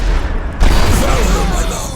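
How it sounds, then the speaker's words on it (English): Uproar explosions burst during a Dota 2 esports match, Beastcoast versus Team Liquid at The Bali Major 2023. A dense, loud mix of booming blasts and game effects jumps up sharply after a brief lead-in and holds steady. "he will get a kill from the grave with the uproar explosions"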